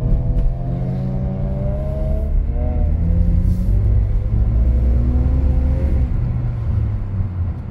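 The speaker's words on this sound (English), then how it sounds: "So the car can feel some RPM." BMW E46 rear-wheel-drive car drifting in snow, its engine droning steadily at low revs with pitch rising and falling as the throttle changes, a loud continuous rumble heard from inside the car with no talk.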